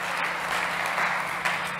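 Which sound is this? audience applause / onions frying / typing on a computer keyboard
audience applause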